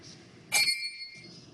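A single clear ding of a 10-second warning bell at a city council candidates forum in Irvine, struck once with a bright metallic ring that lingers for about half a second over quiet room noise.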